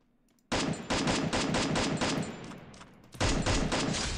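Rapid automatic gunfire rings out in a video game, a loud close burst of fast shots that thins and pauses briefly before a second burst resumes, with no talk over it.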